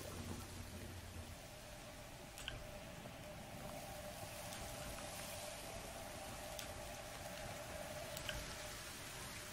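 Steady, soft rainfall in the video game Destiny 2: The Witch Queen patters continuously with a few faint droplet ticks, fairly quiet and even throughout, no voices.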